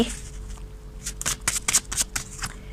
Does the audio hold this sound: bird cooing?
no